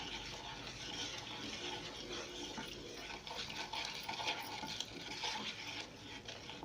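Half a cup of sugar is stirred into a sabudana drink, with a soft, continuous swirling of liquid and faint clinks heard quietly and steadily, no talking.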